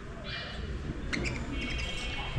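A tame pet bird gives a few short, sharp chirps and squawks while being handled, close by and faint over a low background murmur.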